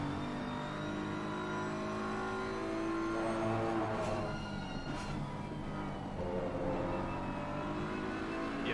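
Race cars in a video game lapping Laguna Seca, engines droning steadily with rising and falling pitch as they brake and accelerate. Several cars are close together, and the sound is continuous and moderately loud, with no talk.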